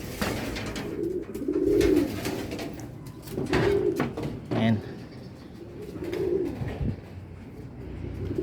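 Soft cooing from a group of pigeons, four hens and one cock, in repeated low murmuring phrases close by, with faint handling noises and a voice speaking in between.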